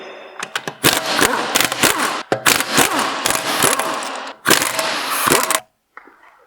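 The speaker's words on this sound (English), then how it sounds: "We're going to start by removing our wheel and center cap." Removing the rear wheel of a B8.5 Audi S4 produces loud, close mechanical bursts of tool noise in several long stretches with brief gaps, ending abruptly in near silence.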